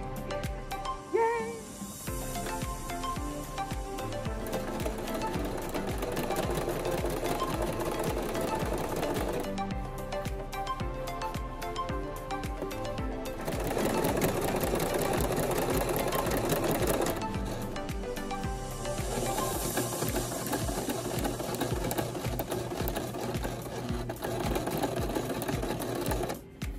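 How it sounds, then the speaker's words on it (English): A sewing machine stitches denim from a pair of jeans being converted into a skirt, running loud and close in long bursts with brief pauses between passes. "So we're sewing from here, from this front stitch,"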